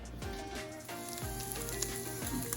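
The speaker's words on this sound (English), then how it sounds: "I'm gonna toss in my Spam. And we're gonna fry this up till it's a little golden brown." Spam slices sizzle and fry in hot oil in a pan over medium-high heat, a steady crackling hiss with scattered pops running throughout, close and fairly loud with no talking.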